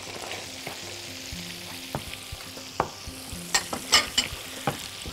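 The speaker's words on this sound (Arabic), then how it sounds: "هنحط الزيتون في الصوص بتاعها" Olives stirred into a sizzling sauce in a pan, a faint steady frying hiss under scattered spoon scrapes and clinks against the pan, growing livelier toward the end.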